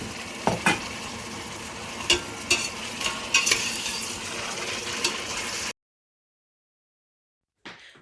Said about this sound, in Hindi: फिर इसमें हम प्याज और लहसुन ऐड कर लेंगे और इनका थोड़ा सा कलर चेंज होने देंगे।